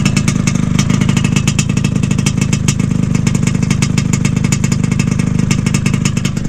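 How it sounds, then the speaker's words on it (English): A 1975 Can-Am TNT 250 vintage track and trail motorcycle idles close and loud, its engine firing in a steady, rapid, even putter throughout with no talk over it. "Listen to the idle on this thing."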